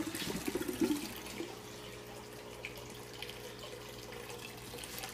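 Water trickling and draining from a grow bed in an indoor living-room aquaponics system, a soft, steady flow with a brief gurgling splash at the start, faint and fairly close.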